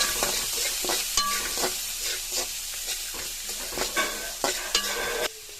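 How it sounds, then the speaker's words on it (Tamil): Steady sizzling of onions sautéing in hot oil, with scraping stirs and clinks of a utensil against the pan, close and continuous, no talking. "இது நல்லா வதங்கட்டும்."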